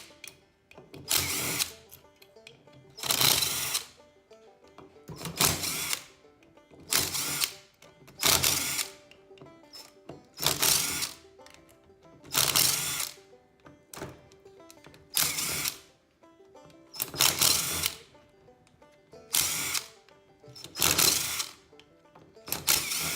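A power driver spins out T25 Torx bolts from the top of a 46RE/47RE transmission valve body, giving about a dozen short, loud whirring bursts in a steady rhythm with quiet gaps between each bolt.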